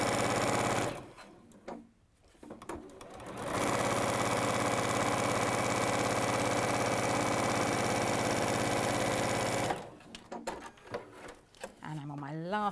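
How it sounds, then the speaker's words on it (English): Sewing machine running with a steady, fast mechanical hum and needle chatter, starting and stopping in short bursts and then holding one long continuous run, with voices talking in the quieter gaps. "You can't carry on sewing."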